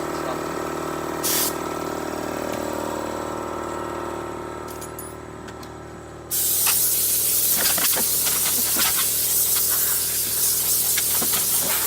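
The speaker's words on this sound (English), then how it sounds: "Air compressor and this lovely wand to clean out my toolboxes and stuff." A shop air compressor feeds a blow wand cleaning out toolboxes: a long steady hiss of air with a motor hum underneath, then a louder, harsher blast of air for the last half.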